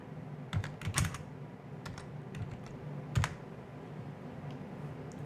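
Light typing on a computer keyboard, scattered key clicks in short bursts with pauses, fairly quiet over a low room hum.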